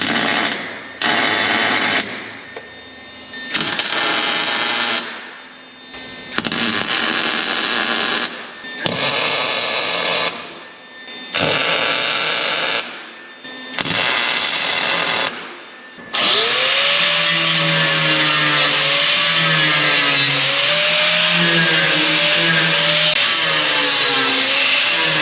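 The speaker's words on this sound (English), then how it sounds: "we got to weld all these spot welds" A welder lays spot welds on the sheet metal floor of a custom 1930 Dodge truck, with about half a dozen crackling bursts of two seconds each separated by short pauses, followed by a longer continuous buzzing stretch.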